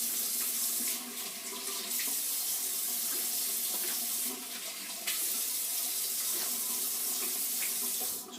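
A bathroom tap runs steadily into a sink as alum is rinsed off a freshly shaved face after a Parker 26C safety razor shave, the close, continuous splashing swelling and easing slightly as hands move through the stream.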